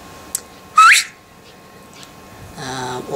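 A sharp, loud rising whistle rings out once, preceded by a small click, then fades into quieter background noise and a faint tonal hum.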